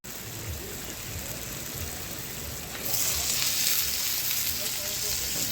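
Mixed vegetables frying in a pan, a steady close hiss and sizzle that swells louder partway through, with faint stirring underneath and no talking.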